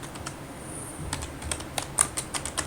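Typing on a computer keyboard while producing a document, a close run of quick irregular key clicks that grows denser and louder toward the end, with no speech.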